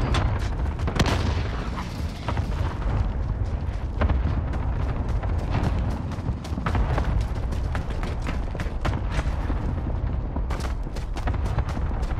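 Cluster strike explosions in a combat game, a dense continuous barrage of booms and sharp cracks rolling on loudly without pause.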